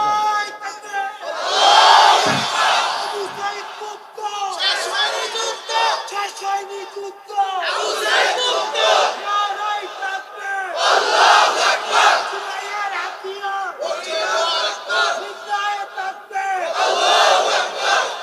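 A large crowd at a rally chants a slogan in loud, repeated collective bursts, swelling and falling in waves with brief pauses between shouts, close and dense.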